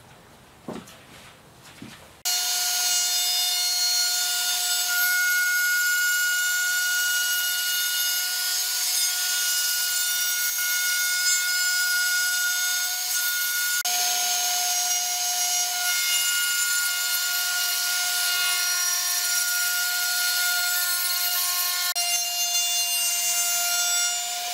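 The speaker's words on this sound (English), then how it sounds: "we're now going to run a groove on the inside faces for our 9mm MDF panel to drop into" A router cuts a groove along the inside faces of a wooden angled panel door frame to take a 9mm MDF panel, a steady high-pitched whine running continuously after a short start, loud and close with no talking.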